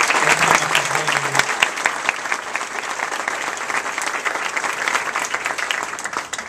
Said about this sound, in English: please let's give them a round of applause for opening up this venue